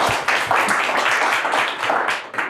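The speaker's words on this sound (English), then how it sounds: "a round of applause for." Dense audience applause after a lecture, loud and continuous for a couple of seconds before tapering off at the end.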